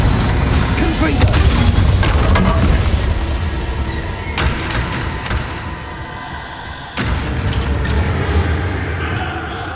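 Confringo spell explosion in Hogwarts Legacy, a loud booming blast followed by rumbling debris and crackling game effects, with further heavy thuds through the sustained noisy wash.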